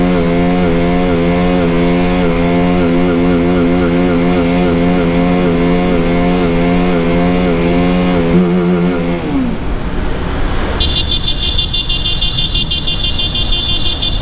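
BMW 310GS motorcycle running without an air filter while descending a mountain road, a loud steady engine drone that shifts pitch before dropping into a rough idle with a high whine, close and continuous.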